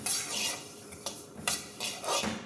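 Flax seeds crackling and rattling as they roast in a dry kadai, with scraping stirs and small pops at a steady, close rhythm.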